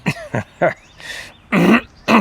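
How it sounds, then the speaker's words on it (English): A man who is sick with COVID clears his throat several times in quick, rasping bursts. Each one is close and loud, separated by short pauses. "I apologize if I clear my throat a couple of times"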